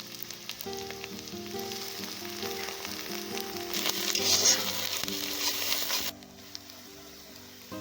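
Onion with garlic and ginger fries at an outdoor camp cookout. A moderate sizzle swells louder midway, then drops off abruptly, over steady tonal background sounds.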